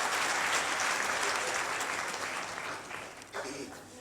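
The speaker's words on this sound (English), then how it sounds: "another round of applause as you judge for yourselves" Sustained applause from a large audience at a university inauguration ceremony, steady and dense across the whole stretch, thinning slightly toward the end.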